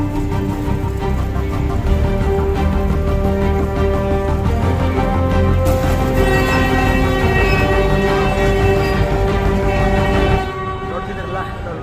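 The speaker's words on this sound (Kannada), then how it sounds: "ಈಗ ನೋಡಿ ಜಾಯ್ ಟ್ರೈನ್ ಟನಲ್ ಹತ್ರ ಬರ್ತಾ ಇದೆ." A small joy train at the National Rail Museum rolls toward a short tunnel, its steady rumble and clatter continuous and fairly close, with people talking over it before the sound drops near the end.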